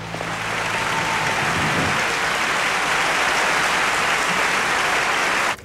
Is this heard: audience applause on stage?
yes